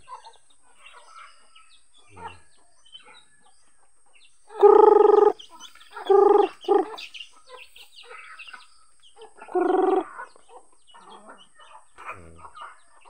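Chickens cluck in a few short bursts, close by, with quieter chirps and peeps from chicks between them and no talking.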